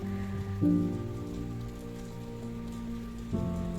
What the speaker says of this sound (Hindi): ये देखिए कितना प्यारा लग रहा है ये बारिश यहाँ पे।